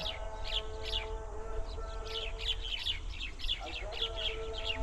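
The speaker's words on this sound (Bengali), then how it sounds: "বাবুই পাখি, ঝাঁক।" A flock of baya weaver birds on a riverbank near crop fields in rural Bangladesh gives repeated short chirps and calls, rhythmic and overlapping, at moderate distance over a low steady rumble of background noise.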